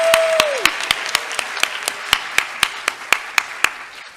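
Audience applause at a College of Health Professions pinning ceremony for Allied Health students: a broad wash of many hands clapping, with sharper regular claps standing out in a steady rhythm, fairly near, slowly tapering off after a brief tone at the start.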